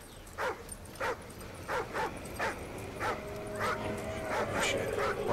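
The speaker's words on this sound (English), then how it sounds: "What is this dog up to?" A dog in the video game Call of Duty Ghosts gives a series of short, regularly spaced yips and barks, about ten in a row, then shifts into whimpering, under a quiet game ambience with no talk.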